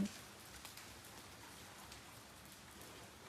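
Steady rain hisses down without a break, a soft even patter close by with no voices.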